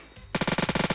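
Rapid automatic gunfire in the video game Phantom Forces begins abruptly after a short quiet moment, then continues as a fast, evenly spaced burst of about a dozen loud shots.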